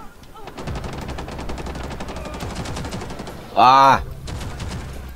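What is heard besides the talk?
gunfire in the video game Rainbow Six Siege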